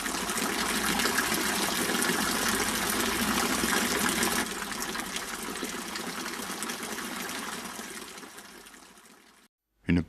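Water gushes from a four-spout public fountain fed by the Saint-Sumian spring in Brignoles, a loud continuous splashing rush that softens toward the end before a brief cutoff.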